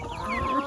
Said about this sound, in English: What to do with all these chickens.